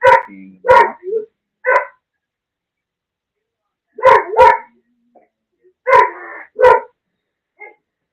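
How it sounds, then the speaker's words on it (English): A dog barks in close, loud bursts: a pair of quick barks followed by a third, then after a pause another pair, then a further double bark, and at the end a faint yip, with silence in the gaps. "my dog being obnoxious"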